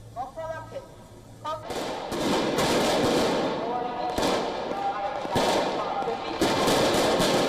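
Loud bursts and sharp cracks of fireworks launched by protesters at police lines outside the Georgian Parliament in Tbilisi, going off repeatedly outdoors, with crowd noise and shouting underneath.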